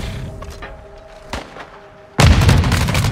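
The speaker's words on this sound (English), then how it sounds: "Throwing grenade!" Grenade explosion in Call of Duty Warzone 2.0 DMZ mode, a sudden loud boom with rumbling debris after a couple of seconds of quieter battlefield ambience and faint distant shots.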